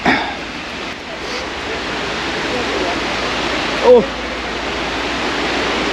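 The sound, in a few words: waterfall in Bali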